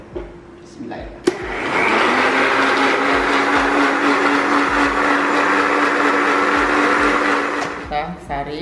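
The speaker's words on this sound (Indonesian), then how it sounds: "Jadi kita blender dulu, kita ambil airnya." A kitchen blender purees suji leaves with water for cendol, spinning up after a brief click into a loud, steady whirring drone that holds for several seconds before winding down, with faint voices at the edges.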